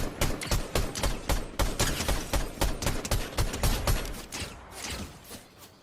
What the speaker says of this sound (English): so I see there's a few players here, so I start shooting at them.